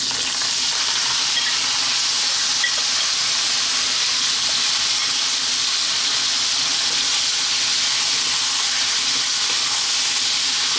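A chicken biryani mix sizzles and crackles steadily in a hot pan, a constant bright frying hiss with faint stirring scrapes.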